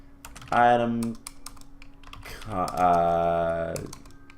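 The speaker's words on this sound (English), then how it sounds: "My mouse was in the way, I couldn't see what I was typing" Light clicks of typing on a computer keyboard tap along in the background while a voice speaks over them in two stretches.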